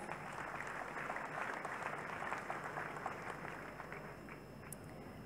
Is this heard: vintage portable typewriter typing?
no